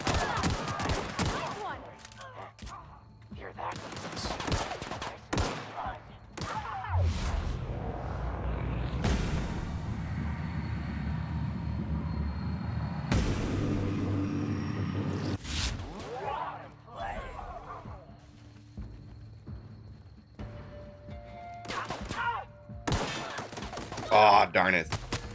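Gunfire in the Outer Worlds played on Xbox Series S, with bursts of shots and heavy booming rumble mixed with someone talking throughout.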